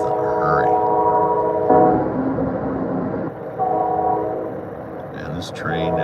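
A train rolls along with a steady, rumbling clatter, and a horn-like tone sounds at times. Voices talk over the rolling noise throughout.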